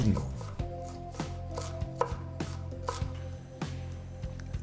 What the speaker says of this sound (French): on commence par les oignons qu'on va hacher finement